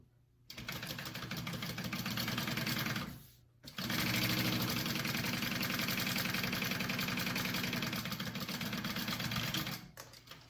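Sewing machine basting the raw edge of a shoulder bag, a fast steady whirring stitch in two runs split by a short pause, close and clear, with no talk.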